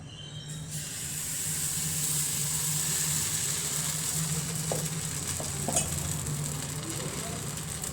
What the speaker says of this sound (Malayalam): ഇനി അടുത്ത ദോശ ചുടണം